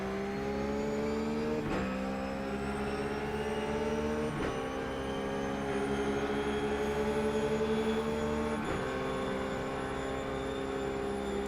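Race cars running side by side in the iRacing sim: a steady, continuous engine drone with a rising pitch, interrupted by a few brief gear-shift drops, with no talking.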